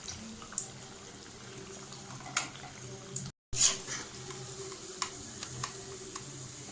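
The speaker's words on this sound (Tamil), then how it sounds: "இந்த மாதிரி போட்டு ஃப்ரை பண்ணிக்கோங்க" Banana fritters in batter frying in hot oil, giving a soft steady sizzle with scattered small pops and crackles and one brief dropout midway, fairly quiet throughout.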